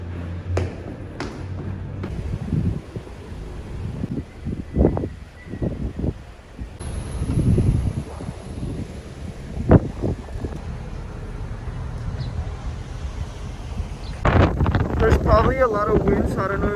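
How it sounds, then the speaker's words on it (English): Strong outdoor wind at El Morro buffets the microphone in gusty, low rumbling surges. A voice talks intermittently underneath it. "Probably a lot of wind, so I don't know if you can hear me"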